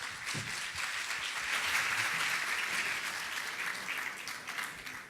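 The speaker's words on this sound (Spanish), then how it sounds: "pido un aplauso para ellos" Steady audience applause fills a hall at a national mining congress after a panel on mining resources and public finances, a dense, sustained wash of clapping at moderate distance with no talk over it.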